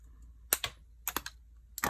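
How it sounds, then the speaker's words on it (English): A metal jewelry head pin being cut with wire cutters, giving a few sharp close snips and clicks in quick succession in an otherwise quiet room. "So I'm going to cut the head pin off about like this."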